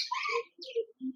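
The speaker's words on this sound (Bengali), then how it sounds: "গোল্ডেন ফিঞ্চের মেল পাখি রয়েছে" A male golden finch, a large caged bird offered for sale, gives three short chirps close by with brief gaps between them, the first longest and brightest.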